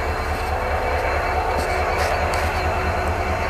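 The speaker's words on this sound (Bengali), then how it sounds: "মানাস রাইনো যাত্রীবাহী ট্রেন প্যাসেঞ্জার।" A Manas Rhino passenger train rumbles steadily at close range at a railway station, a low continuous roar with a faint metallic whine riding on top.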